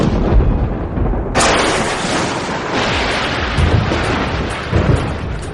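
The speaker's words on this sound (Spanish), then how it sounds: "Todos hemos visto relámpagos durante una tormenta eléctrica" A thunderstorm with lightning brings loud, close thunder that cracks suddenly and then rolls on in a long, heavy rumble, with rain falling throughout.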